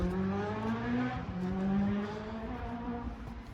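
A motorbike speeds along a road near a park on a warm day, its engine rising and falling in pitch as it passes, fairly loud at first and then fading into the distance.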